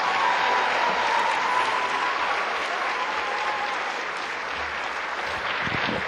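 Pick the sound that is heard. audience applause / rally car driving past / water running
audience applause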